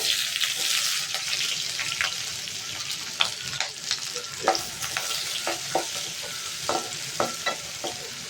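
Chopped onions fry with fennel, green chillies and curry leaves for a crab gravy, giving a continuous loud sizzle and crackle with sharp spatters and occasional scraping stirs against the pan.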